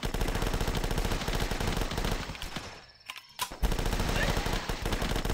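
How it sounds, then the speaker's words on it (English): Rapid Uzi submachine gun fire in a video game, a dense continuous rattle that breaks off briefly in the middle before resuming at full loudness. "Yeah, the Uzi is pretty darn good, if I do say so myself."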